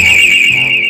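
A loud, steady electronic security alarm tone blares without a break for the whole second, with nobody talking over it, as in a business monitored alarm advert.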